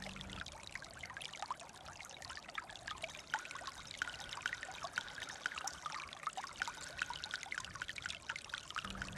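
Water trickling and flowing down a gully in shola grassland, soft and fairly faint, with steady bubbling and splashing droplets and a continuous light wash, no voices present.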